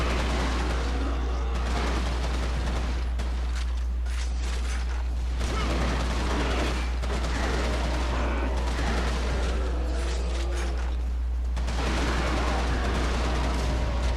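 Carbine gunfire in the video game Resistance 2, heard as repeated shots and mechanical clatter running loud and continuous through a dense, busy game soundscape with a steady low hum underneath.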